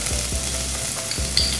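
Onion sizzles steadily in a hot pan on the stove, a close, continuous crackling fry with occasional soft stirring knocks.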